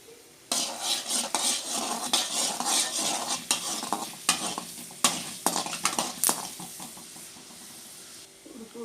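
Urad dal frying in hot oil in a pan while being stirred, scraping clatters and clinks of a spoon against metal over a soft sizzle, repeated irregularly across the whole stretch.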